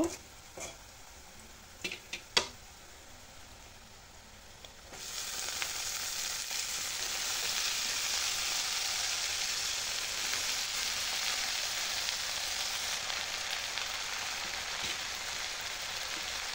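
Water spinach (kalmi shak) hits a pan of lightly browned fried onions and oil, bursting into a loud, steady sizzle that continues evenly after a few opening clatters and taps of the utensil.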